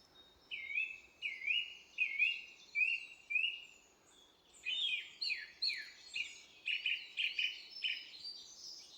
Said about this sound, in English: Obviously there's a lot of bird song there